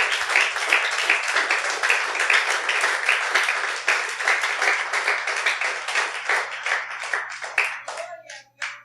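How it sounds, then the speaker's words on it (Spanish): A church congregation claps together in quick, fairly rhythmic bursts, close and lively, for several seconds before the clapping thins out and stops. "dele un aplauso al Señor"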